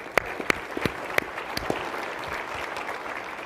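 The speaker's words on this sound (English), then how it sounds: "So let's just give the Secretary a round of applause for that" A conference audience gives Secretary Ray LaHood a round of applause; several sharp, separate claps ring out at first, then blend into a softer, continuous patter of clapping across the room.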